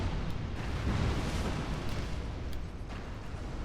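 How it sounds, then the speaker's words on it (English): Fire-breathing enemy in Dark Souls 2 spewing flames at the Iron Keep: a steady, dense roaring whoosh of fire that fills the whole stretch with broad rumbling noise and some scattered crackles, no voices. "one is spewing fire"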